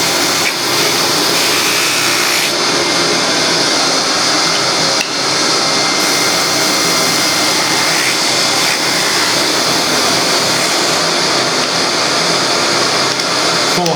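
A wooden bowl spinning fast on a lathe while being sanded with pads gives a steady, loud, broadband whirring hiss, close and unbroken for the whole stretch, with slight shifts in pressure and no voices.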